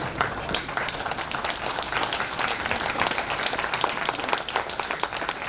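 Loud, sustained applause from a large audience standing at a national health-foundation convention, dense steady clapping filling the whole stretch without a break.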